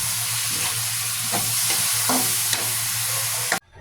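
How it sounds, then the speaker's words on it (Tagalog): Bean sprouts and pork sautéing in a pan with fish sauce and pepper, a steady close sizzle with occasional stirring scrapes and clinks, ending abruptly. "Igigisa pa yan natin ng ilang minuto para lalong kumapit yung lasa."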